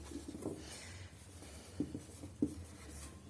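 Numbers written by hand on paper during a maths lesson: faint, soft pen-scratching strokes with a few slightly louder taps, quiet and close, no talking.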